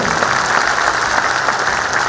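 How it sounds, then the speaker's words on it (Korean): Loud, close applause from an audience at a supporters' rally event in South Jeonnam, a thick continuous burst of many hands clapping at steady intensity from start to finish. "다시 한번 큰 박수를 부탁드립니다."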